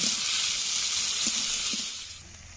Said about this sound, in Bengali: কুচি টমেটো কুচি পেঁয়াজ আর টমেটো ভালো করে ভেজে নেব